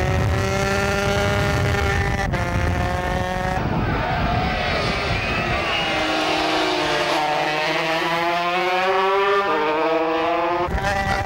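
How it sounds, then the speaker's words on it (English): 250cc and 400cc racing motorcycles at the 1995 Ulster Grand Prix road race accelerate away from a hairpin, several high-pitched engines rising and overlapping continuously and loudly near the microphone. "And they close right up as they accelerate away from the hairpin."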